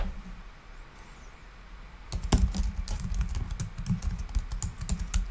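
Rapid typing on a computer keyboard starts after a quiet moment, a close, continuous patter of keystrokes with no voices.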